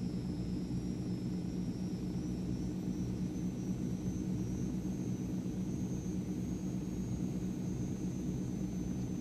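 Transall C-160 twin-turboprop transport in Microsoft Flight Simulator flying low over Welsh countryside, a steady loud droning engine roar with a constant propeller whine and no break or change in pitch.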